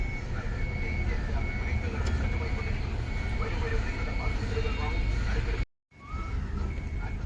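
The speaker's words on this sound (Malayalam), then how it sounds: "അപ്പോൾ നമ്മുടെ ടിപ്പർ ഇതാ വന്നുകൊണ്ടിരിക്കുന്നുണ്ട് കേട്ടോ" A tipper truck rolls in on a highway work site, its low engine rumble steady beneath a repeating electronic reversing beep, with background chatter and a brief dropout near the end.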